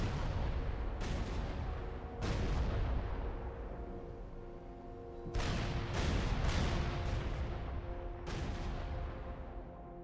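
Heavy artillery shells from the real-time strategy game Supreme Commander strike in repeated booming salvos, about six broadband blasts with rumbling tails over a steady roar of battle, loud and dense, with no talking.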